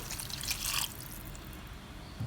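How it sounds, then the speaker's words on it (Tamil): Water, 250 ml, poured into a pan of mushroom kurma masala cooking with oil. The pour is a short splashing burst that settles into a low bubbling simmer, and no one talks. "இப்போ தண்ணியானது இரநூத்தி ஐம்பது எம்எல் தண்ணி சேர்த்துக்கிறேன்"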